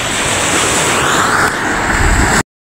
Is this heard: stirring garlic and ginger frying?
no